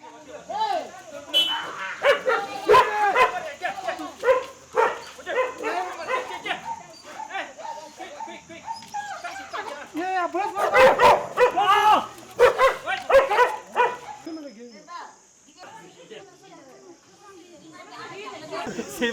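Stray dogs barking repeatedly in a busy outdoor setting, sharp overlapping barks and whimpers mixed with people talking and a steady electronic beeping tone.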